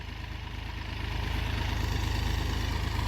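A Massey tractor engine chugs steadily while pulling a tiller through a field in low gear, a continuous low, throbbing rumble that grows slightly louder and nearer over the few seconds, with no voices.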